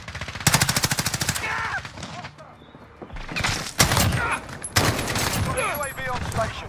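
Rapid bursts of automatic gunfire from a first-person military shooter game crackle in close, loud volleys, pausing briefly before more shots ring out, with people talking over the action.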